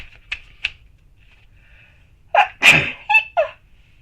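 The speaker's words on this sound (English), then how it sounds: "I think I'm going to sneeze" A couple of faint clicks, then a loud, close sneeze followed by a shorter second burst.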